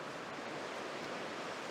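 The River Dart on Dartmoor on a cold morning, flowing as a steady, faint broadband rush of water with no breaks or voices.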